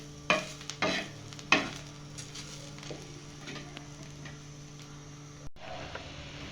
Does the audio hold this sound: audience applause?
no